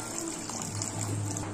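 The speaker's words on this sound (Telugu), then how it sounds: "ఇప్పుడు కొద్దిగా వాటర్ వేయాలండి." Water pours steadily into a pot of mutton curry, a close, continuous gushing splash lasting a moment.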